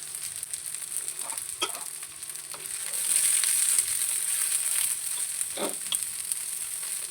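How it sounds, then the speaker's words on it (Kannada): Cut green chillies sizzling in hot oil in a pan, a steady close frying hiss that swells midway, broken by a few sharp pops and crackles. "ಈಗ ಹಸಿಮೆಣಸು ಇದು ತುಂಡು ಮಾಡಿ ಹಾಕ್ಕೊಳ್ತೇನೆ, ಇಲ್ಲದಿದ್ದರೆ ಪಟ ಅಂತ ಮೈ ಮೇಲೆ ಸಿಡಿಬೋದು"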